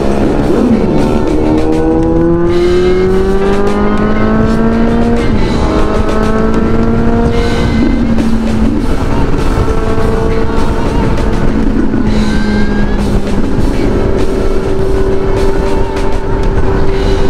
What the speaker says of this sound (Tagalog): Medyo maraming sasakyan ngayon.